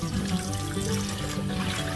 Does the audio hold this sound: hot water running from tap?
yes